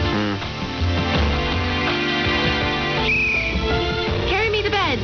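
A whistle blown within a radio drama sounds in short bright bursts over music and speaking voices, heard through shortwave AM reception on 5985 kHz.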